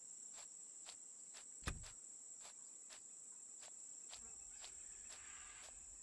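Steady high-pitched chirping of crickets in the sci-fi survival game Empyrion Galactic Survival, a continuous faint trill with regular pulses, one brief thud partway through.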